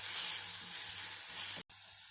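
Spice powders of coriander, garam masala and turmeric sizzle loudly and steadily while being sautéed in a pan for bottle gourd kofta gravy, with a brief cutoff near the end before the frying resumes.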